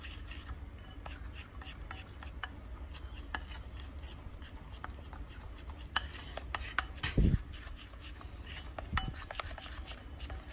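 A spoon stirring aloe vera gel into a homemade face pack in a small bowl, giving soft close scraping and rubbing with scattered light clinks against the dish, plus a louder knock or two midway.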